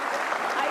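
Brief burst of studio audience applause on an Indonesian television talk show, a steady dense wash of clapping throughout with no gaps.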